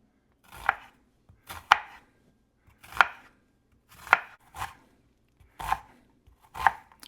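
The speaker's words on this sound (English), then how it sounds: "We don't need to chop up these vegetables really finely." Vegetables for a beef stew are chopped into big chunks on a board, with about seven separate, crisp knife strikes spaced roughly a second apart, close and alone with no voices.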